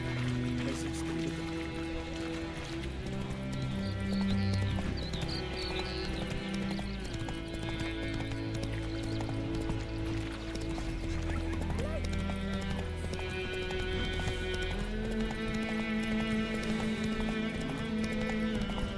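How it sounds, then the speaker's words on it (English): Roach, a horse in the video game Witcher 3, gallops with steady rhythmic clip-clop hoofbeats and an occasional whinny, heard over continuous game music and ambience. "Run, Roach"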